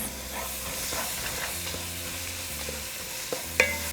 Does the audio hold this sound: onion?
yes